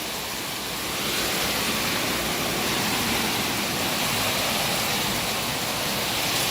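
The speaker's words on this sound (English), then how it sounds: "All that water comes pouring down from that back forest area, comes right down through our yard" Rainwater pours down from a forest through a flooded backyard in Mexico, a dense continuous roaring rush of water that swells slightly after the first second and stays loud throughout, with no voices.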